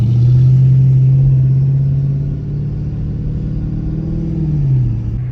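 A modified Dodge Charger pulls hard on a 0-60 run, its loud, steady low engine drone holding for several seconds, then dipping and rising again near the end without any talk.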